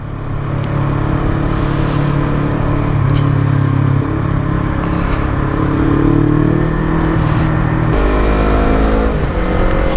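A motorcycle rides through evening city traffic on damp roads, its engine rising and falling through gear changes, loud and close, with other vehicles passing nearby.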